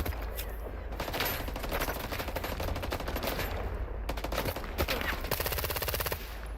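Rapid automatic gunfire from a weapon in S.T.A.L.K.E.R. 2, loud and sustained bursts of close shots running nearly the whole time with short pauses between strings.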